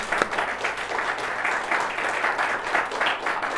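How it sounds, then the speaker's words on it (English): A conference audience at a breakout session gives a steady round of applause, a dense continuous patter of clapping lasting throughout with little else audible. "Didn't he give him a round of applause?"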